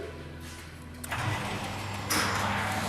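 A car pulling up to a hospital's admissions entrance, its mid-pitched engine rumbling steadily and growing louder in two steps as it nears, heard close with no talking.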